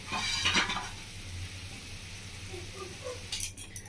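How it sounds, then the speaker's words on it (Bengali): Spatula scraping and smoothing thick sandesh mixture in a pan with the heat off, soft intermittent scrapes and light clinks near and close, brief louder scraping at the start and end. "তো বন্ধুরা খুন্তি দিয়ে ঠিক এইভাবে সমান করে নেবেন ওপরটা।"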